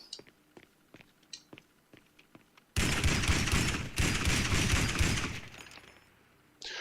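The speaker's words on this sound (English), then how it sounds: "Start shooting, motherfucker. Shotguns out." Shotgun fire in GTA 5 Online erupts after a few seconds of scattered clicks, becoming a dense, loud burst of blasts that runs for several seconds before stopping and then returning briefly.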